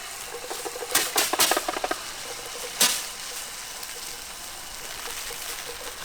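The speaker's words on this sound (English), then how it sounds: "Turn the leaky faucet on." Water splashes and patters unevenly from a leaky faucet, with a few louder gushes early on, then a steady light trickle continues alone.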